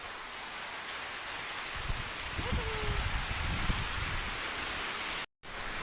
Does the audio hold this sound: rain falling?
yes